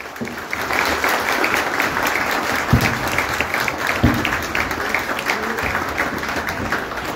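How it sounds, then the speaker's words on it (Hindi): Audience applause at a pigeon club award ceremony, dense, loud clapping from a large crowd sustained for several seconds, with a couple of thumps partway through. "आप सबकी भरपूर तालियां होनी चाहिए"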